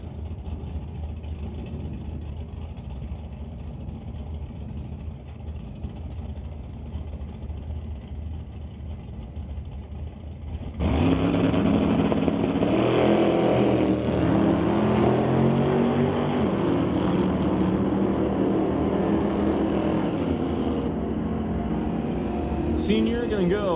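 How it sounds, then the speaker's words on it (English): Engine roar from a 1962 Chevy II and a Model A hot rod drag racing, a low idle rumble that swells abruptly into loud sustained revving after about ten seconds and carries to the end. "first pair of hot rod, it'll be Jerry Brabander with the 1962 Chevy 2 to go up against Rob Monroe Sr. with his White Knuckle Racing Model A"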